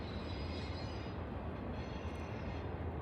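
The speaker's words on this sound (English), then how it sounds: "You can hear the train in the background as I've been talking." A distant train rumbles by near a snowy winter trail, a faint, steady roar of wheels on rail that holds even throughout.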